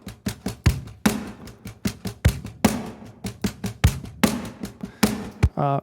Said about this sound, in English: the pre-delay is what's giving it that slapback sound